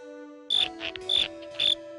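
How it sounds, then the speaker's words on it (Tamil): An unusual grasshopper in a cartoon gives three evenly spaced, bright, buzzy chirps in a row, loud and close over a steady tonal music bed, with no talk. "இந்த மாதிரி ஒரு வினோதமான வெட்டுக்கிளிய நான் பார்த்ததே இல்ல."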